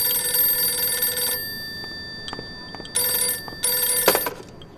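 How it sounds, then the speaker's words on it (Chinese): A telephone bell rings loudly in bursts, a long ring, a pause with faint knocks, then two more short rings in an indoor setting. "电话"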